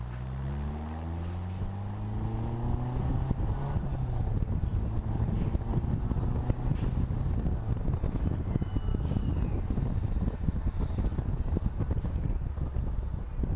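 A 1960 Bugeye Sprite sports car with a 1275 engine drives around turns, its engine note rising and falling through gear changes, then holding a steady, loud drone with wind buffeting the microphone.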